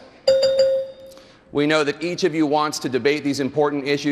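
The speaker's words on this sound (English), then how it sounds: "And as you requested, a bell will also sound like this." A debate timing bell chimes twice in quick succession, a clear ringing tone that decays over about a second, followed by someone speaking.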